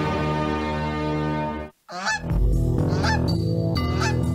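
Guard geese at a maximum security prison honking loudly and close, several overlapping harsh calls in a continuous run with a brief pause midway, no talking.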